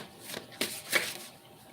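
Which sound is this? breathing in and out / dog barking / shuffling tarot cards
shuffling tarot cards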